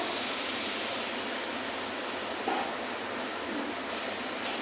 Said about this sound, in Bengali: এখন অল্প করে জল দেবো